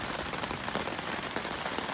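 Steady rain falling on a kayak campsite, a dense continuous patter of drops on tarps and ground, close and even, with no voices.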